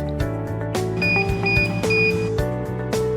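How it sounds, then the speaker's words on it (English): A chestnut stripper machine's electronic alarm beeps in repeated short tones over a steady mechanical hum and rattling clatter. "When shells are stripped within 30 to 50 seconds, the alarm will go off."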